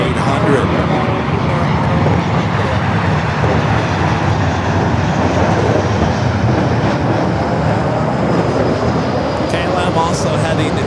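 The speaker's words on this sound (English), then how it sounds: "United Airlines flight 547 coming up from Cabo" A United Airlines Boeing 737-800 jet arriving from Cabo at LAX roars steadily and loudly throughout, a broad continuous engine rush with a voice talking over it.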